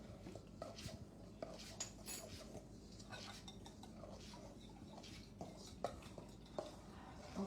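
Utensils scrape and clink against a bowl while ingredients are stirred together in a kitchen cooking session for kids, steady mixing with occasional sharper knocks at a moderate, close level.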